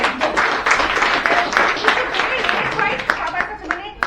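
An audience clapping at a tribute gathering, steady mixed applause close by with people talking over it.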